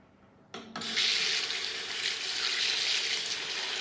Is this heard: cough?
no